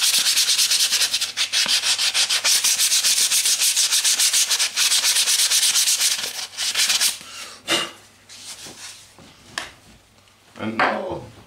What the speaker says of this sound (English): Going over it with my finest sandpaper. Make it nice and smooth.